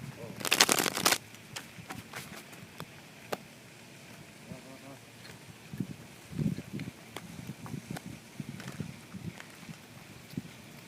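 Tarot cards shuffled and drawn during a card reading, a brief loud riffle of cards near the start followed by quieter scattered flicks, taps and handling noises, with speech through much of it.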